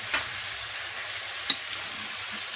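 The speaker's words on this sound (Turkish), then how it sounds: "Kıyma 500 gram kıyma hazırladım. Onu kavuruyorum." 500 g of minced beef fries for tantuni, a steady, fairly loud sizzle with a single sharp utensil tap partway through and no voices.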